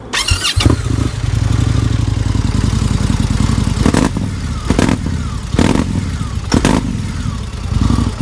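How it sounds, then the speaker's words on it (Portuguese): An Indian 101 Scout motorcycle engine idles loudly and close through its exhaust, a lumpy throbbing rumble punctuated by several sharp blips of the throttle. "Aqui é um sistema SNS com um barulho muito característico."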